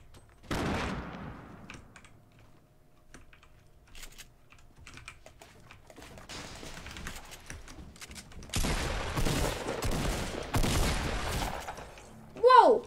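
Grenade explosions and bursts of gunfire in Fortnite, with a loud blast early on, quieter scattered shots, then a sustained heavy barrage of explosive bursts toward the end, ending with a sharp whooshing sweep.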